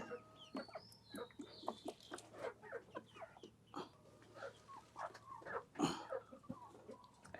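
Desi hens being fed moistened mash cluck and murmur in short, irregular calls, near and moderately loud, with one louder squawk partway through and no talk.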